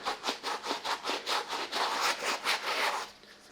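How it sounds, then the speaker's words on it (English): A medium-bristle brush scrubs the uppers of white Air Force 1 sneakers in quick back-and-forth strokes, a steady rhythmic swishing close by that stops near the end. "I am going to move over to the medium bristle to kind of hit the uppers up a little more"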